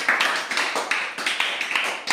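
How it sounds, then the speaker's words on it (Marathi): A group of children claps together in quick, roughly rhythmic bursts in a classroom, close and fairly loud, with no voices. "त्यांच्यासाठी जोरात टाळ्या द्या"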